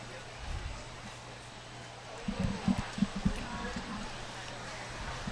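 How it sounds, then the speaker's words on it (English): An off-track Thoroughbred moves across the ground of a show hunter arena. Several soft hoof thuds land in a quick cluster midway through, over a steady open-air background. "the first horse and rider to enter the arena will be Ali Davis,"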